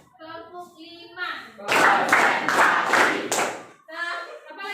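A high-school class claps their hands in a quick burst of several sharp, loud claps, with children's voices talking before and after.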